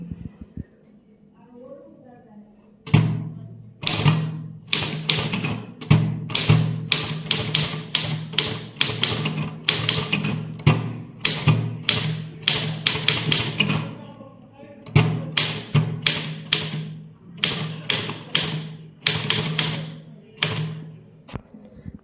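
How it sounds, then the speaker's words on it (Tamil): A manual typewriter types a legal proceeding letter in an English senior typewriting lesson. Steady, close, clacking keystrokes run in quick bursts with brief pauses, after a quiet opening. "இதை எப்படி டைப் பண்ணலான்னு பார்க்கலாம் வாங்க."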